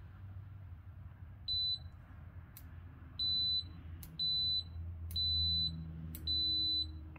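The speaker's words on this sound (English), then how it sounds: "you'll hear the relay click, and then you'll hear it beep" A Kaiweets KM601 multimeter in continuity mode gives five clear, high electronic beeps of uneven length, each preceded by a faint click, over a low steady background hum with no talking.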